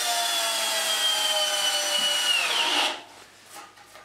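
A power screwdriver whines steadily for about three seconds as a self-countersinking screw bites into a block of oak, then cuts off, leaving brief faint handling noise.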